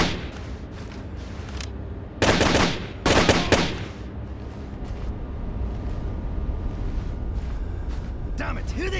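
Gunfire in Rainbow Six: Lockdown: two loud bursts of rapid shots stand out over steady combat noise, with voices talking throughout.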